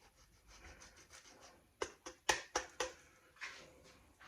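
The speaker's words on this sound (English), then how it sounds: "grating of our beautiful Parmesan Reggiano." Parmigiano Reggiano is grated over spaghetti carbonara. A run of short, sharp scraping strokes sounds close by in quick succession, with softer rubbing before and after, and no talking.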